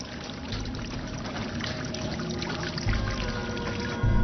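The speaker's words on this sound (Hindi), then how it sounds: "हाँ, बहता हुआ पानी।" Water flowing steadily and fairly loud, a continuous rushing pour with no break and no voices.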